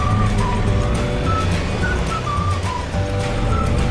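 Green car in a farming simulator game driving toward a carrier, a continuous, fairly loud engine hum with slight rises and dips throughout, no voices.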